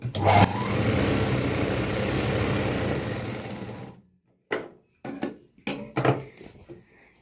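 A sewing machine stitches a petticoat in a steady, close whirring run for about four seconds, then stops; afterward a voice talks in short bursts with light handling sounds.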